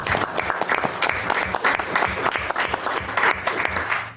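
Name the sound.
audience applause at city council meeting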